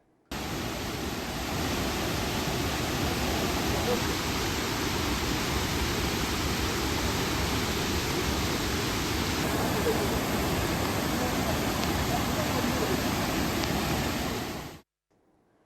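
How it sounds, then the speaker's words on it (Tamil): Suruli waterfall, swollen after heavy rain, roars as a dense, steady rush of falling water, loud and unbroken for about fifteen seconds before cutting off abruptly. "சுருளி அருவியில் தண்ணீர் ஆர்ப்பரித்து கொட்டுகிறது"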